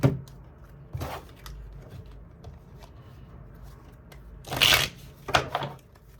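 Tarot cards shuffle in a few quick riffling bursts, the loudest near the end, separated by quiet gaps; close and crisp with no speech.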